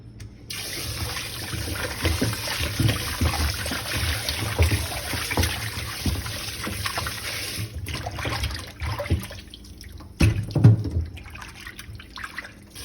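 Water splashes and runs as it is poured off and used to rinse in a sink, a continuous close gush with drips and clatter that surges near the end, with no speech.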